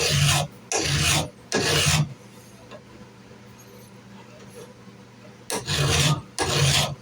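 A hand file rasps along a steel knife blank being profiled, three loud, even strokes, a quiet pause, then two more strokes.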